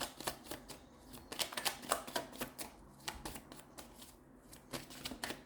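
Tarot cards are shuffled by hand, a rapid series of close, crisp riffling bursts and flicks repeating irregularly for several seconds.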